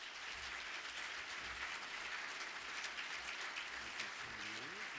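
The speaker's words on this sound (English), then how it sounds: "So one more time, a round of applause for Gentner Drummond." A banquet crowd at a scout fundraising lunch gives steady, dense applause for keynote speaker Gentner Drummond, an even wash of clapping that fills the room at moderate distance.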